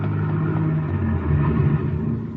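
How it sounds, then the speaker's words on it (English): A car engine rumbles low and steady nearby, its tone shifting slightly as it pulls away, with no voices. "Car pulling away out in front."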